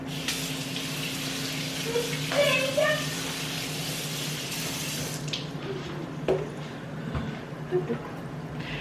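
Squash and vegetables washed under a running kitchen tap, water pouring steadily into a sink with splashes and clatter as the produce is handled, while a person talks over it; the flow cuts back partway through.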